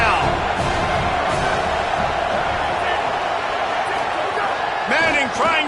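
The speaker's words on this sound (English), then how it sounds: "A veritable crimson tide of noise on Saban Field here on third down." A steady, loud stadium crowd roars on third down at Saban Field in a college football video game, a dense wall of noise under a play-by-play commentator's voice, with a few whoops near the end.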